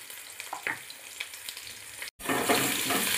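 Potato pieces frying with salt and turmeric in a pan, a close continuous sizzle with a few stirring scrapes, briefly cut off, then a louder, brighter hiss resuming.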